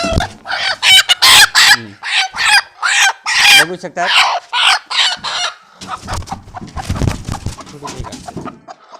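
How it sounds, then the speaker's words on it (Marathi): Hens sitting on eggs in laying boxes on a farm cluck close by in rapid, repeated bursts, with a person speaking briefly among them. "इथं एकदम तीन कोंबड्या बसलेल्या आहेत"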